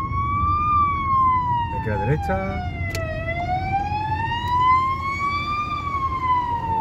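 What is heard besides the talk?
ambulance siren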